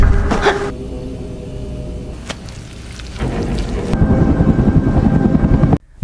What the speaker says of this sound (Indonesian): helikopter yang membawa Daewon beserta pasukannya tiba di kapal tersebut